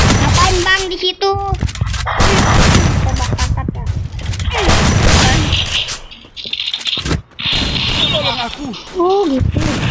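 Gunfire in the mobile shooter Free Fire, with shotgun use, loud rapid shots and bursts crackling over game effects, while people chatter throughout.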